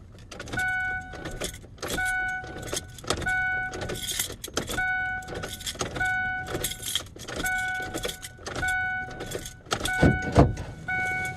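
Power door locks on a 2002 Ford Ranger cycle repeatedly between lock and unlock, a rapid series of sharp mechanical clunks in a steady rhythm, close and fairly loud, with some key jangling and no talking.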